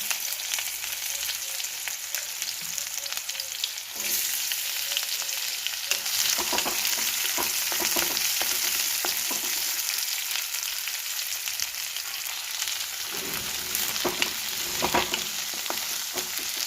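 Onions fry with cumin in a pan for paneer bhurji, giving a constant sizzle broken by bursts of stirring and spatula scrapes. It is close and steady, and no one talks.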